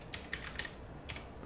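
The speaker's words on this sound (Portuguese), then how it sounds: "Perdi a prática de digitação." Keystrokes on a computer keyboard while typing up a LaTeX document, a few quiet, irregular clicks in small clusters with pauses between, close and soft, with no voices.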